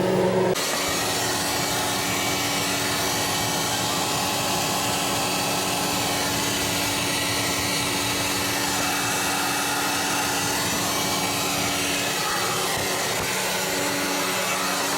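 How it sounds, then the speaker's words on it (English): A heat gun blows steadily and loudly on an iced-up evaporator in a Frigidaire side-by-side refrigerator, a constant whooshing roar with a low hum, starting abruptly and running unbroken to the end. "We're going to use the heat gun and defrost this."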